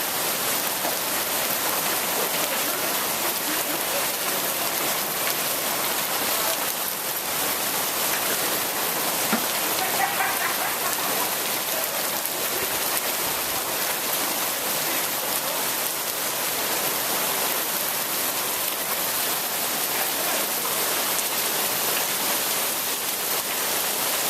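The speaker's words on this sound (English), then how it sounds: "And the rain is a moderately heavy rain." A moderately heavy rain falls outdoors ahead of a hailstorm: a steady, even hiss of drops on surfaces that runs unbroken and alone for the whole stretch, with no voices.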